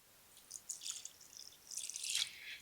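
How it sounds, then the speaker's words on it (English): A pre-measured cup of water pours into a casserole dish in a home kitchen, producing faint, brief splashing and trickling in two short bursts. "So I'm gonna add a cup of water"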